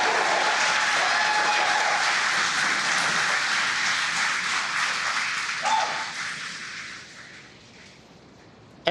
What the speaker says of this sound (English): as you can hear the cheering in the background